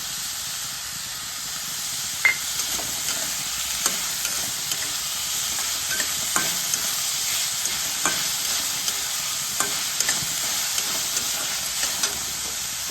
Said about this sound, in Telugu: ఒక స్పూన్ అల్లం వెల్లుల్లి పేస్ట్, ఆనియన్స్ రోస్ట్గా వచ్చేలా వేయించుకోవాలి.